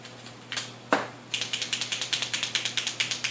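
Marker pens rattle as they are shaken: a couple of single clicks first, then a fast, even run of sharp, close clattering ticks, with no speech.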